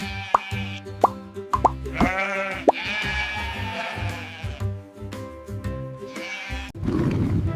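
Sheep bleats come in several wavering calls over a steady rhythmic music bed, with sharp plopping accents scattered through and a noisier burst near the end.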